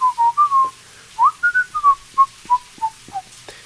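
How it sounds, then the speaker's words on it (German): A person whistles a short tune in clear separate notes, some held and some quick, rising and falling in a bouncy rhythm, close and alone with a faint background hum. "Ich pfeife."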